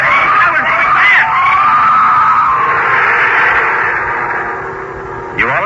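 A rising, shattering shriek builds into a sustained scream in an old-time Halloween radio drama about a red-eyed beast, loud and continuous with wavering tones throughout, ending in a sharp burst.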